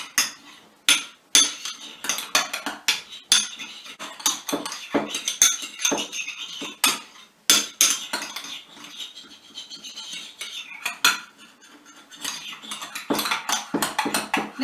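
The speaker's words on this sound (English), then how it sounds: "going to push the powder against the side of the bowl with the handle of my tablespoon" A tablespoon handle pushes dried egg powder against the side of a mixing bowl, giving repeated sharp metallic clinks and scrapes in an irregular rhythm, close and fairly loud, with no talking.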